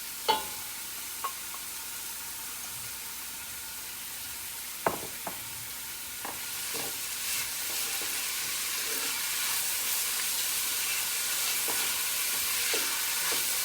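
Chopped onions and green chillies frying with lamb in a pan, a steady sizzle that swells louder partway through, punctuated by a few sharp clicks and scrapes of stirring, with no one speaking.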